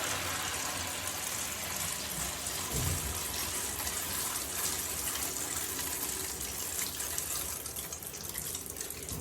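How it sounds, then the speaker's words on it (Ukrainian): Water spurts out of holes in a plastic bottle filled with water, a continuous hissing trickle and splash that holds steady, fairly quiet, for about nine seconds. "Вода почала просачуватися через дирки."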